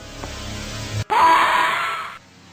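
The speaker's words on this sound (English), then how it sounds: "I especially love your scream." A scream sound effect from the 3DO horror game Doctor Hauzer, a single loud, sustained cry that bursts in abruptly after a low rumble and holds for about a second before cutting off.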